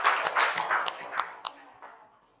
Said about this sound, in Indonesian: tepuk tangan untuk Mas Haikal